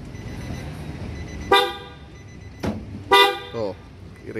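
Replacement car horn being tested, sounding in three short honks, two of them brief and one longer, loud and close over faint background noise, with a voice talking at the end.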